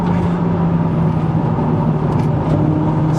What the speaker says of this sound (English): The hills are alive with the sound of VTEC.